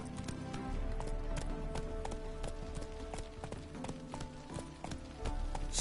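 In The Witcher 3, the horse Roach gallops with a fast, steady clip-clop of hooves, close and prominent, over a continuous bed of game music.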